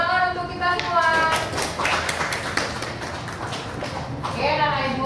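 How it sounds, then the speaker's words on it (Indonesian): Students in a maths classroom clap together in a fairly quick patter of hand claps in the middle, with voices talking at the beginning and end. "Tepuk tangan untuk kita semua."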